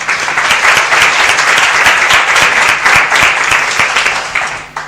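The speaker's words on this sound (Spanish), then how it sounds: "Un aplauso." Sustained audience applause fills a talk on storytelling and public speaking, dense steady clapping from a large crowd throughout, fading slightly at the end.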